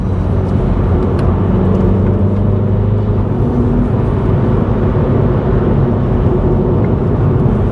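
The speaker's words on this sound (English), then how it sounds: "Here's an electric car." A loud, steady whirring rush of an electric car going by close up, tyre and road noise filling the whole stretch without speech.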